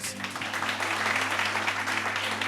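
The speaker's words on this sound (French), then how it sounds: "On applaudit très fort Fat" A studio audience on a French-language morning show applauds in a full, steady burst of clapping, with a constant low hum running underneath.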